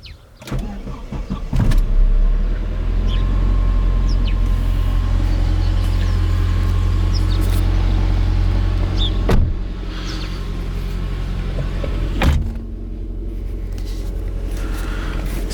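A Saab 9-5 Turbo being restored cranks and starts, then settles into a loud, steady low idle rumble close by, with a couple of brief thumps before the engine note eases slightly near the end.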